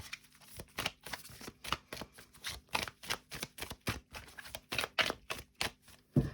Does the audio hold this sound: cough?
no